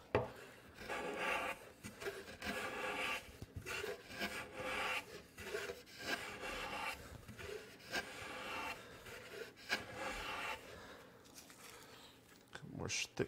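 A hand plane cuts thick shavings from wood for a window planter box, giving repeated rasping strokes in an uneven rhythm, fairly close, with a voice talking briefly among the strokes.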